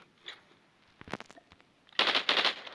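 Gunfire in the video game Call of Duty: a few scattered shots, then loud rapid automatic bursts near the end.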